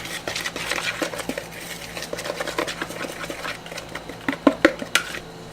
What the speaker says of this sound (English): you just mix them all together with the whisk